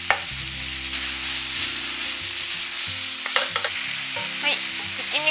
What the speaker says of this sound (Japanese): ニンニクとか生姜は最初に炒めることで油に香りが移って美味しくなるのと、あと豆板醤もですね、炒めると辛みが立って美味しくなる